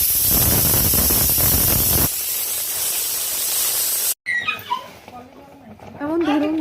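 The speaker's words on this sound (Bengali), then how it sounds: "আপনারা শুনলেন হুইসেল দিল প্রেশার কুকার, ভাত ফুটছে টকবক শব্দে" A pressure cooker cooking rice lets out a loud, forceful steam hiss that weakens after two seconds and cuts off abruptly, followed by softer, uneven bubbling and kitchen sounds.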